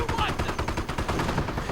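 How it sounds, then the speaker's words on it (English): Rapid bursts of anti-tank gun and sniper fire crackle in a video game battle, dense overlapping shots filling a short stretch with loud, continuous gunfire. "And anti-tank gun firing away as well."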